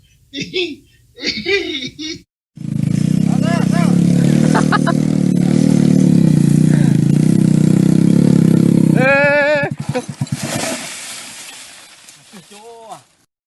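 A motorbike engine runs steadily and loud for several seconds in an outdoor African setting, preceded and followed by people talking.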